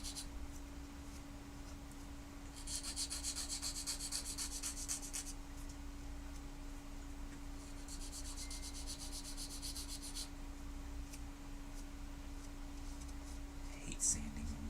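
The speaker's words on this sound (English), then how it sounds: "I hate sanding on clear pieces." Sanding of clear plastic model kit pieces at a hobby workbench, two separate bursts of soft rubbing scratches, each lasting a few seconds, over a steady low hum.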